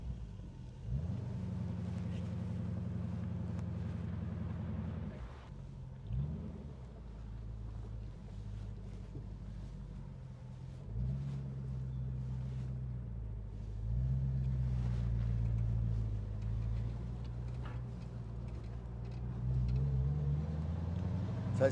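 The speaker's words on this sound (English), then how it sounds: "so let's go for a drive in it and see what the car drives like." A restored 1965 Ford Mustang V8 manual convertible drives with a steady low engine drone that shifts in pitch through gear changes, mixed with buffeting wind noise throughout.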